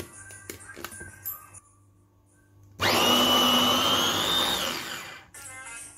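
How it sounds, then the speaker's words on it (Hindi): An electric grinder runs loud and steady for about two and a half seconds, grinding boiled peas for dal shami kebabs in a home kitchen, then winds down. Quieter kitchen clatter comes before and after it, and no one speaks. "अब इसको हम ग्राइंड करते हैं।"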